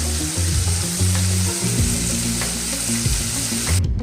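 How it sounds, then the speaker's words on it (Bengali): Vegetables fry in hot oil with a loud, continuous close-up sizzle and crackle, stirred now and then with soft scraping, uninterrupted by any voice. "আমি ভালো করে ভেজে নেব তারপরে বাকি উপকরণগুলো দেব"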